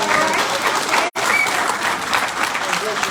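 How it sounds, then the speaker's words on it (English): Dense audience applause fills a candidate debate hall, sustained and close, with one brief cut partway through. "Can we have just a quick applause on that?"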